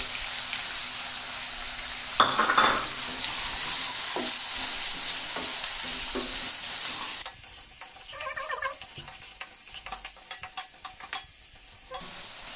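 Garlic paste and chopped onion fry in a pan for a Gujarati gathiya curry, with a loud steady sizzle and scraping stirs that drops to a quieter crackle midway.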